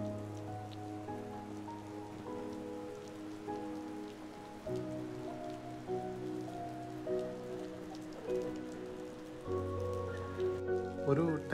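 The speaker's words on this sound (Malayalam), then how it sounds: "നാട്ടിലൊക്കെ മഴ പെയ്യുന്ന പോലെ കുടുകുടാ മഴ." Heavy rain falls on a clean street on the Gold Coast, Queensland, a continuous patter on the surface that builds near the end, with no one speaking.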